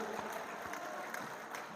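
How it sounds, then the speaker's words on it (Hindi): Scattered audience clapping at an Urdu poetry mushaira held for a college golden jubilee, steady and moderately distant, with no voices over it. "एक बार भरपूर तालियां।"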